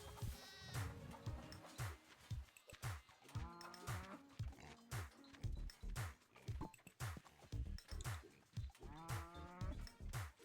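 Cattle lowing in a video game farm scene, a series of repeated moos and bleating calls with a rising and falling rhythm, some overlapping, loud and close, with a few sharp knocks between them.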